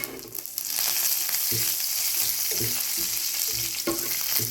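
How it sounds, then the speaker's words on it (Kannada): Mustard seeds, cumin and curry leaves sizzling in hot oil, a loud, steady hiss close by with scattered pops and crackles throughout. "ಸಾಸಿವೆ ಚಟ್ಪಟ್ಟು ಸ್ವಲ್ಪ ಜೀರಿಗೆ ಹಾಕ್ತೀನಿ ರೀ ಆಮೇಲೆ ಕರಿಬೇವು ಸೊಪ್ಪು ಹಾಕ್ತೀನಿ ರೀ"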